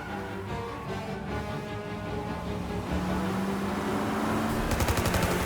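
Rapid automatic Tommy gun fire in the video game Mafia: Definitive Edition rattles steadily over a noisy, chaotic backdrop, growing slightly louder toward the end, with no voices.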